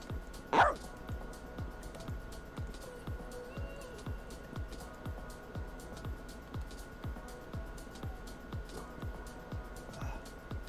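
A dog that was once abused, giving one sharp yelp near the start, then soft whimpers and small yips at a steady low level, close by, with no talking.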